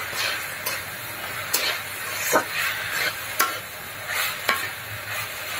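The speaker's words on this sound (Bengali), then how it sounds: "তো তেলের উপরে শাকটা দিয়ে আমি এখন নাড়বো সুন্দর করে" Leafy greens, Malabar spinach, frying in hot oil as a spatula stirs them: a soft continuous sizzle broken by crisp scrapes on the pan about once a second, close and fairly loud, no speech.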